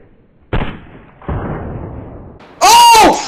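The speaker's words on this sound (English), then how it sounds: "Oh, he sniped me." In a video game, a sniper rifle fires two sharp, echoing shots about a second apart, each trailing off, and then a loud voice cries out.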